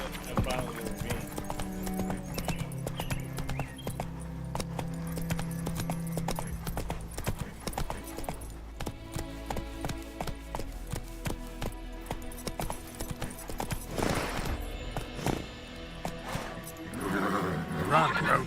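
Roach the horse gallops in a video game, with rhythmic hoofbeat clip-clops under a musical score, a brief whinny near the end and a voice talking over parts of it.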